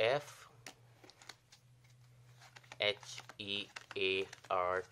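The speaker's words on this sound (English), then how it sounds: "we're going to shuffle the rest of the cards" Playing cards are shuffled with a quick run of soft clicking and flapping, followed by a person talking.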